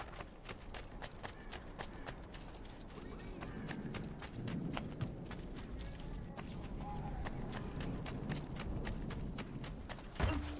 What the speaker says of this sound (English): Okay, horse riding.